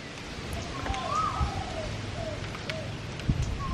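A bird in Thailand calls again and again outdoors on a windy day, its short whistled notes repeating at moderate distance over a steady rush of wind and faint background noise.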